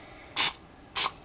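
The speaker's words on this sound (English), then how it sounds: "with some non-stick spray so the ribs won't stick" Non-stick cooking spray is sprayed into a slow cooker before ribs go in, two short, sharp hissing bursts about half a second apart, close and clear against a quiet room.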